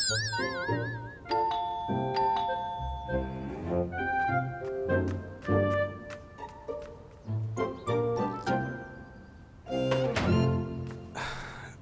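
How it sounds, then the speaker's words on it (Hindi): A doorbell chimes over and over for a long stretch in a home scene from a Hindi-dubbed Chinese drama, its ringing tones mixed with cartoonish music-like stings and no speech. "दरवाजे की जो घंटी है बहुत देर से बज रही है।"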